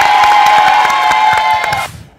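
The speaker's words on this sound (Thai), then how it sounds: "ขอเสียงปรบมือหน่อย" A studio audience at a Thai game show claps and cheers in a short, dense burst over faint background music, then cuts off abruptly.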